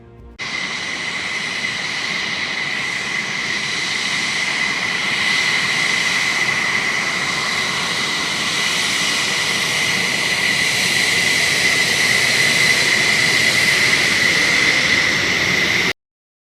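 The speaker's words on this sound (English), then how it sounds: "The F-18 Hornet, a machine that roars through the skies at supersonic speeds" An F-18 Hornet fighter jet roars in a steady, loud, broadband rush with a high whine, sustained without pause for about fifteen seconds before cutting off abruptly.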